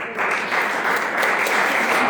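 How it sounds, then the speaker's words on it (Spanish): A church congregation applauds steadily, a dense wash of clapping that holds at an even, loud level throughout. "Dale un fuerte aplauso al Señor."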